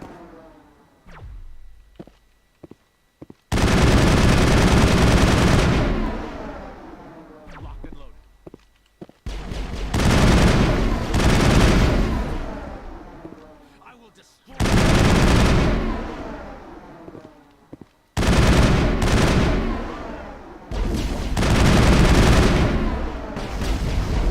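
Loud bursts of gunfire from snipers and other weapons in the sci-fi game Mass Effect, coming in long, booming waves separated by brief lulls, with a voice talking over the shooting.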